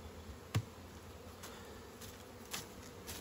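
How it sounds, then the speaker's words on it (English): Bees buzz faintly in a low steady drone, with a few soft knocks or bumps heard close by and no voices. "I could just dump these bees out here,"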